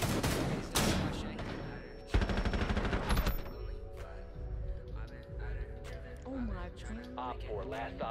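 Rapid bursts of gunfire from Rainbow Six Siege crackle early on, with loud close shots in the first few seconds, then fade as voices of players talk and react over the game audio.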